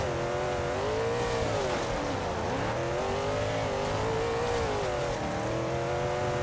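A race car drifts in Forza Horizon 2, its engine holding a steady, wavering high whine with pitch sweeping up and down as it slides, continuous and loud with faint tire noise and no talking.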